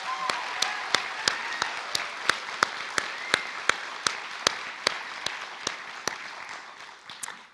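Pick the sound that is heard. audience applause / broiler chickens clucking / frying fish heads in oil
audience applause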